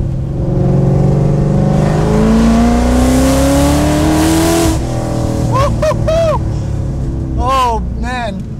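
A Ford GT sports car with Heffner Performance tuning accelerates hard, its engine note rising steadily and loud from inside. Quick rising and falling pitch sweeps follow toward the end, with a voice shouting over it.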